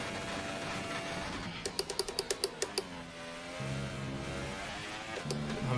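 A car engine blips through quick downshifts on magnetic paddle shifters, with a rapid string of sharp clicks from the paddles followed by rising and falling revs, heard up close in the cabin.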